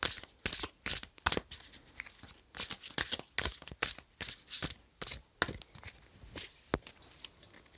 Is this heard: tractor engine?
no